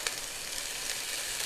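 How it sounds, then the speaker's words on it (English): Cold broccoli rabe hitting hot olive oil in a skillet, a close, steady bright sizzle and hiss throughout, no talk. "you can hear the sizzle when the cold rabe hits"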